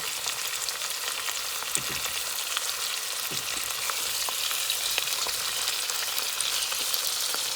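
Halved tomatoes fry in a pan for a thick Italian-style tomato sauce, giving a loud, even sizzle that holds steady throughout with a few faint taps and stirs underneath.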